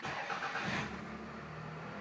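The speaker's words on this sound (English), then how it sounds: "let me see if I could turn on the car" A 1992 Toyota Camry XLE engine cranks briefly and catches, then settles into a low, steady idle hum, heard quietly from close by inside the car.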